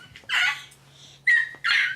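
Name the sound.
child imitating dog bark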